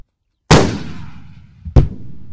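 A cannon fires one shot at a shooting range, a loud sharp blast that rolls away into a decaying boom, followed about a second later by a second sharp report.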